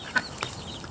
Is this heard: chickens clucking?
yes